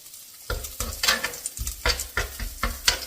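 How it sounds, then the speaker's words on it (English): Garlic sautés in butter and olive oil in a hex-clad pan, close and loud, with bursts of sizzling and stirring scrapes coming in a steady rhythm of about six strokes. No one speaks. "I'm going to add the garlic to this pan, and we're going to saute the garlic."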